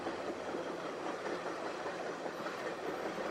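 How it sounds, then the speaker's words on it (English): A passenger train runs along tracks hugging the western shore of Lake Champlain toward Port Henry, giving a steady, even rumble and rolling wheel noise heard from on board, without talk. "the train heads toward Port Henry"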